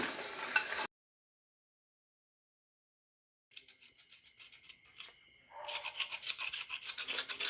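Mussel shells for Kannur-style stuffed kallummakkaya being scraped clean: after a short burst of noise and a long silence, a rough, rasping scrape builds into steady rhythmic strokes, close and fairly quiet.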